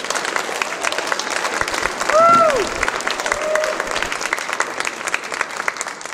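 An audience applauds at a church-style awards gathering, a dense, steady wash of clapping throughout with a brief voice rising above it partway through.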